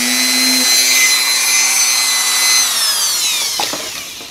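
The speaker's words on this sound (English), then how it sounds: "I'm just going to go ahead and grind the rest off" A power tool grinds away plastic on a model car's mini wheel tubs, a steady loud high whine with layered tones that holds for about three seconds, then winds down with a couple of brief scraping touches at the end.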